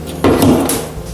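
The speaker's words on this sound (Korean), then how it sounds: "여기도 보시면 서랍도 좀 끝까지 나오고" A deep wooden drawer in an apartment slides fully open with one short rubbing scrape, close and fairly loud, and nobody talks.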